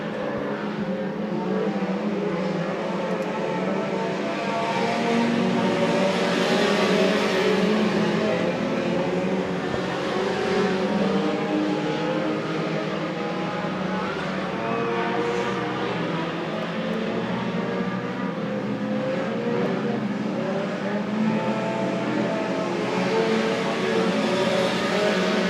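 Stock cars race around Winston Speedway in a continuous dense roar of engines, a steady loud wash of overlapping motors from several cars with no clear gaps or passes standing out.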